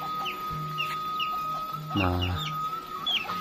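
Chickens cluck nearby behind a house, with short calls scattered throughout and a louder burst in the middle, while someone briefly speaks.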